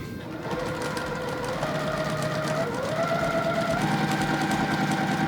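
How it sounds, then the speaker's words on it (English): A sewing machine stitches quilt block seams, running as a steady mechanical whir with a rapid needle rhythm that steps up in speed partway through, close and continuous with no talking. "Now we'll go ahead and sew this one up."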